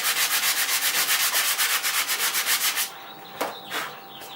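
Rapid, rhythmic back-and-forth scratching of sandpaper over a spot of wood filler on a wooden tool chest, close and loud for about three seconds, followed by a couple of light rubs and taps.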